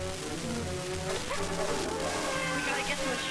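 Dogs bark and yip in a 1939 film scene, short excited calls close together under dramatic background music, with some overlapping sound throughout the brief moment.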